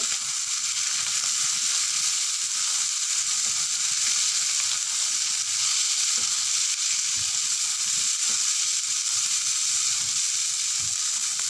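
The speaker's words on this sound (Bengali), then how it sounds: "এবার এই কাচকি মাছের মধ্যে আমি দিয়ে দেবো পুঁই মেটুলি দিয়ে একটু নাড়াচাড়া করে নেব" Kachki fish fry with Malabar spinach stems in a pan, giving a dense, continuous hissing sizzle with faint stirring scrapes, close and steady throughout.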